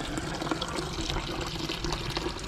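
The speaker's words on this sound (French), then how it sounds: "Un petit rinçage de cuve" A mini washing machine rinses its tub with a steady rush of running and pouring water, close and fairly loud, and a sharp knock sounds at the very end. No voices.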